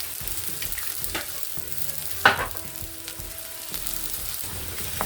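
Garlic frying in a little oil for a crab dish, giving a steady close sizzle with a few soft stirring knocks and one sharper clatter partway through; no voices.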